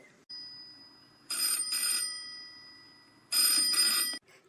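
A telephone rings in two buzzing bursts separated by a pause, moderately loud against a quiet room.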